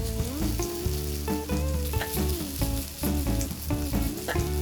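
Shredded potato frying in a hot pan, a steady loud sizzle with repeated scraping and stirring strokes, though tonal background music runs under the frying and no one speaks.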